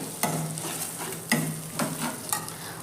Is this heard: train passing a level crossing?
no